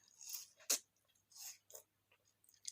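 Wet, crunchy chewing of juicy watermelon, several bites and munches in bursts with short pauses, close to the mic and fairly quiet.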